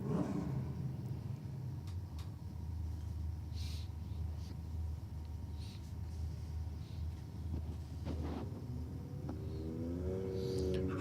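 A BMW and a Commodore launch side by side in a drag race, their engines a heavy, continuous roar that holds steady before rising revs climb near the end, with no talking over it.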